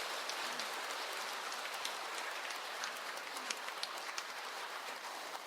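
Soft, steady applause from a church congregation welcoming two priests, a faint continuous patter of many hands with no talking.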